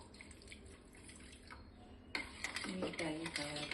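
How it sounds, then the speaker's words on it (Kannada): Water is poured into a kitchen mixer jar for milk holige batter, giving a soft trickle at first and then a louder splash and gurgle as the stream hits, with faint clinks from the jar close by. "ಈ ಮಿಕ್ಸಿ ಜಾರಿಗೆ ಸ್ವಲ್ಪ ನೀರು ಹಾಕಿ"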